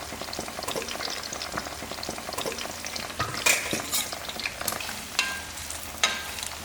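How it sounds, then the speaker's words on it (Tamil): Brinjal pieces frying in sesame oil, a steady close sizzle broken by sharp crackles and stirring clinks, louder bursts toward the end, with no talking. "இப்போ இந்த கத்திரிக்காய் எல்லாமே இந்த எண்ணெயிலேயே பொரிச்சு எடுக்கணும்."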